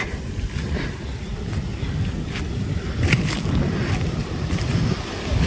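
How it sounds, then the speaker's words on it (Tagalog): Strong wind under a mango tree on a farm buffets the microphone with a continuous low rumble, occasional brief higher rattles over the top. "Taas ng hangin."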